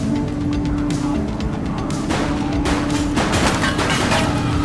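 Rapid gunfire in The Precinct, a police video game, crackling as a dense, continuous barrage of shots layered over steady street and engine noise, loud and close throughout.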